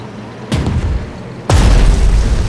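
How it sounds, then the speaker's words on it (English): Tank shells firing in the strategy game Strategic Mind: Spirit of Liberty: two loud, booming cannon blasts about a second apart, the second heavier and followed by a sustained rumbling tail. "Tanks are here. Firing on target."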